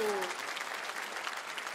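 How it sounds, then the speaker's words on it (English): Audience applause on a TV dance competition show, a steady dense clapping from a studio crowd that stays even throughout the brief moment after a short tonal sound fades. "Felt like that was a little bit like sympathy clap"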